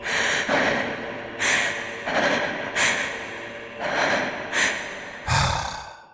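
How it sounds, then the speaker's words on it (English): Annalise, the vampire queen in the game Bloodborne, pants and breathes heavily after a beating, with repeated loud ragged gasps in a steady rhythm and a sharper gasp at the end. "you can hear her panting and breathing heavily"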